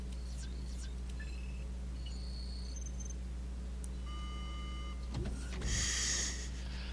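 Game sounds from Resident Evil 4 over a low constant hum: scattered high electronic beeps and tones, then a short, harsh noisy burst near the end.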